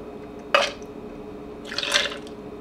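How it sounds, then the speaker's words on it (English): Simple syrup spills and drips from a container with a loose top during cocktail making, heard as two brief, close liquid splashes over quiet room tone. "the simple syrup top is not on the way and it is spilling out of the container"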